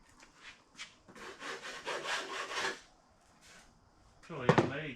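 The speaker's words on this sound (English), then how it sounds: "Just kind of taking the burrs off of it all." Burrs being rubbed and filed off a metal fan shroud for a 1960 Chevy Bel Air: a run of close scraping, rasping strokes in bursts, ending with a brief louder clatter.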